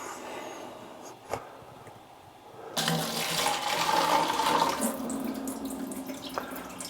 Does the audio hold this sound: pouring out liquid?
yes